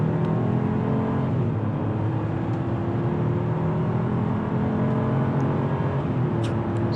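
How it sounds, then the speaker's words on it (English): A 2021 Chevrolet TrailBlazer's small turbocharged engine drones continuously during a 0 to 60 run, a loud, steady cabin roar with a faint rising whir and no voices. "There's a turbo finally kicking in."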